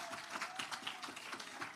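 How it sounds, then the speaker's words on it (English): An audience applauds at an awards ceremony, a steady wash of many hands clapping that sounds faint and somewhat distant throughout. "give yourself a round of applause"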